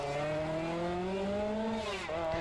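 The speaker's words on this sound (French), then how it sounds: "quel bonheur de voir ces superbes voitures, écoutez-moi ça." Rally cars race at the Ypres Rally, with an engine droning at high revs, its pitch rising steadily before a brief gear-change dip, loud and close.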